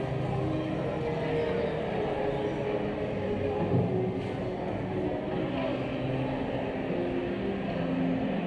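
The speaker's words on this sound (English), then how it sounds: "There is a Hogwarts train here that links Universal Studios to Islands of Adventure." The Hogwarts train linking Universal Studios and Islands of Adventure rumbles steadily with a loud continuous rolling drone, while crowd voices murmur underneath.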